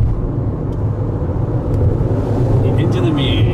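The 2.5-litre gasoline engine of a 2020 Toyota RAV4 under full acceleration, heard from inside the cabin as a steady loud low drone that rises in pitch.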